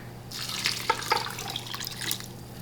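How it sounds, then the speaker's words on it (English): Broth poured from a container into a pot for chickpea rice soup, giving a steady, close liquid splash and trickle with a few brighter splatters and no voices. "So I'm gonna put my broth in here."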